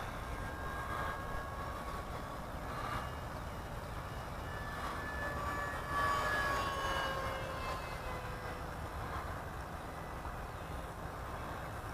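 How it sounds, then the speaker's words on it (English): A Freewing A-10 RC jet model takes off at full throttle, giving a steady, continuous whine with shifting tones over a broad rushing noise that swells slightly midway, with no talking. "Alright, here we go, taking off. Full throttle, back pressure, we're up in the air, gears are coming up."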